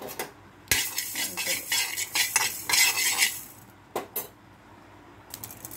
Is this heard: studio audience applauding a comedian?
no